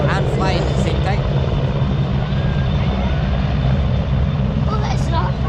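Helicopter flying at the 2025 Ayr airshow in Scotland, a loud, steady rotor and engine roar that fills the whole clip without letting up.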